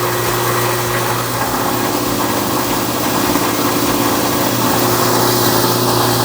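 A BDG Compact 1 mini granulator processes copper, giving a loud, steady mechanical drone with a constant low hum and a dense rattling, grinding texture that holds without pause.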